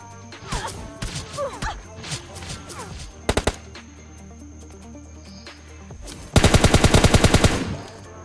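Gunfire in the mobile game PUBG Mobile Lite: scattered single shots and short bursts, then a loud, rapid automatic burst of about a dozen rounds, with game effects in between.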